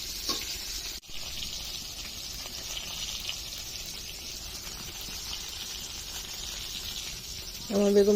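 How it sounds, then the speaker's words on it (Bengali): Eggplant slices fry on a wood-fired stove, a steady close sizzle with a soft hiss running the whole time, a brief dropout near the start and a voice at the end. "লাকড়ির চুলায় বেগুন ভাজা, গরম গরম বেগুন ভাজা"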